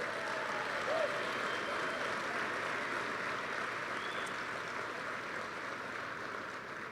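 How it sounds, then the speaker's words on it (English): Steady, dense applause from a large audience at the 2018 HENAAC awards show honoring Great Minds in STEM, a continuous even wash of clapping that holds at one level from start to finish. "That deserves a round of applause."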